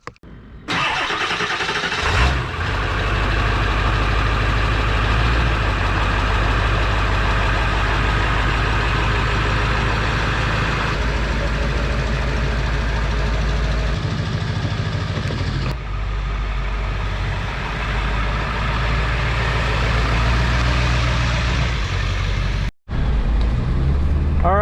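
Ford Super Duty pickup truck, just fitted with new front leaf springs, starts up and then runs on with a steady low engine rumble and driving noise for about twenty seconds, with a brief cut near the end.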